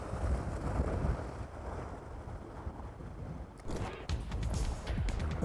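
Strong wind blows steadily across a rocky seashore, a dense, continuous roar with buffeting against the microphone, rising into harsher gusts near the end.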